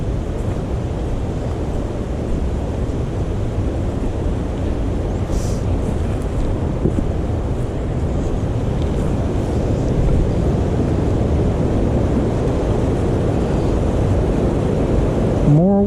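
Steady broadband rush of running water near a hiking trail between Cucumber Gap and Little River, continuous and moderately loud with a wind-like wash, no talk over it.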